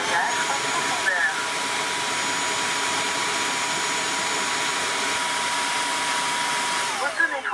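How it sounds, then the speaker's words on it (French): A Dreame H11 Max cordless wet-dry floor washer runs its self-cleaning cycle on the roller brush, giving a loud, steady whirring rush of motor and water that holds evenly throughout before shifting slightly at the end. "Nettoyage de la brosse à rouleau. Nettoyage en profondeur."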